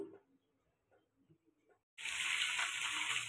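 Paneer frying in ghee, faint quiet rustling at first, then a sudden loud, steady hiss of sizzling fat that continues to the end.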